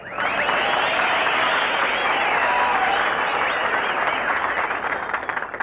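A studio audience applauds steadily at a radio comedy broadcast, dense sustained clapping from many hands at close range with a few voices mixed in, tapering slightly toward the end.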